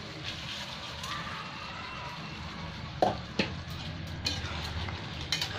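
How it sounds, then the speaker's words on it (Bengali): Lentils and rice frying with spices in a pan for Bengali khichudi, a steady low sizzle with occasional stirring scrapes and clatters, while a person talks over it. "এবার আমি ডালটা দিয়ে দিলাম, একসাথে ভাজা হয়ে যাবে তাহলে মশলার সাথে।"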